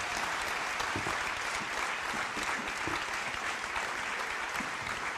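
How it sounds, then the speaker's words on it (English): An audience at a climate and economy conference claps for a panel, a steady, full round of applause from a large room that carries on throughout. "please give them a great big round of applause for that wonderful context."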